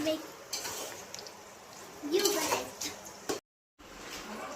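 Fried onion being mixed in a pan for paneer biryani, with scraping and clinking of a utensil against the pan and a soft sizzle, in irregular bursts with a brief silent gap near the end.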